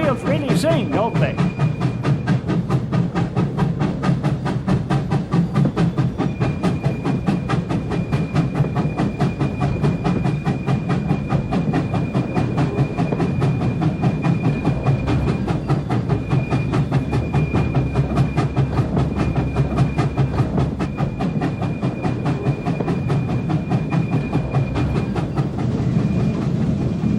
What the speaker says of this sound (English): Those wheels really sing, don't they?